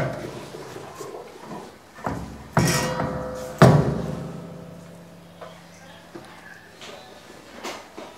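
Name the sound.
machine pressing laddu balls into shape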